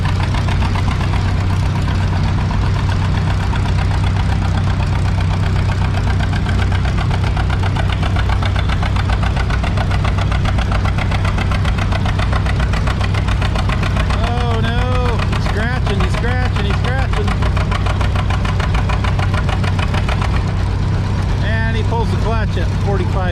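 John Deere G tractor engine pulling a sled across a slippery sponge track, a steady loud mid-pitched knocking drone that holds throughout, with voices talking over it in the last part.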